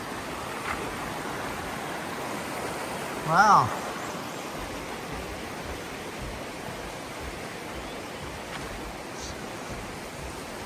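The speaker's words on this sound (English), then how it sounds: "It's a pretty big river." Broad, steady rush of the Ten Mile River, a pretty big river seen from a bridge in Connecticut, a continuous close wash of flowing water with one brief exclaimed voice over it.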